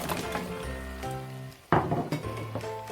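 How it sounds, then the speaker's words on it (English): Chopped gourd tips into a pan of spices and onions, setting off a sudden loud sizzle over a steady background hiss of frying, with light clinks afterward. "Now we're going to add in our vegetable."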